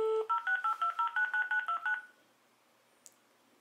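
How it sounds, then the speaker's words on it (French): A landline telephone being dialed: a quick run of about a dozen DTMF keypad tones in steady rhythm, clear and close, ending after two seconds in near silence with a faint click. "je retente ma chance avec mon téléphone fixe"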